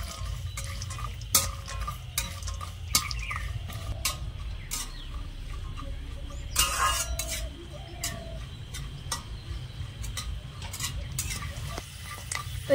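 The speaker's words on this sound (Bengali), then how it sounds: "হালকা করে নেড়ে ছেড়ে একটু বাদামগুলো ভেজে নেব" Cashews, almonds and peanuts fried over low heat in a pan: a gentle continuous sizzle with frequent light spatula scrapes and taps against the metal, no speech.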